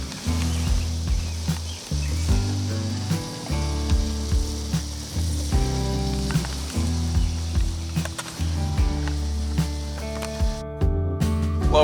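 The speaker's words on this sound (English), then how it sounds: "turn on the burners, and we're going to start boiling this down to make our syrup" Birch sap bubbling and sizzling in pots over burners, boiling down into syrup, with a low steady rumble and repeated clanking, fairly close and continuous.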